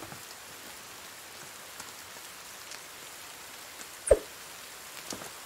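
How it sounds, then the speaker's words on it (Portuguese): Rain falls in the survival video game The Forest, a soft, continuous patter with a single sharper plop or knock partway through and no speech. "Chuva?"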